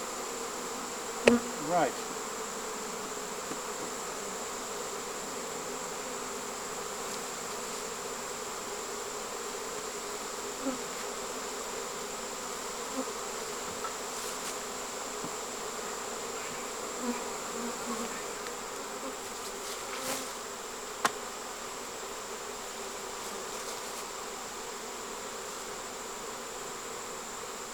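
A fall swarm of honeybees flying, a continuous buzzing hum with scattered small clicks and knocks, steady and moderately close, with a brief spoken word early on.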